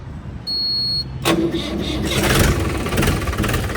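A brief high electronic beep, then a Mahindra 575 tractor engine cranks with a key and catches, settling into a rough, steady idle close by.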